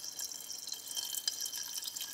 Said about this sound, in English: you got a pull on the end to get the water to flow like a hydration pack.